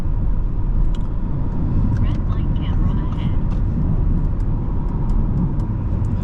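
Cabin of a 2024 Audi S5 3.0T Sportback in comfort mode cruising smoothly, a steady broadband road and engine hum with tire noise, and a voice talking intermittently over it.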